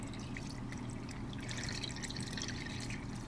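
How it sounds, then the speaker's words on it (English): About 4.5 cups of water are poured into an Instant Pot holding spaghetti, a steady, soft splashing trickle running continuously throughout. "now, last but definitely not least, we are going to add in our water"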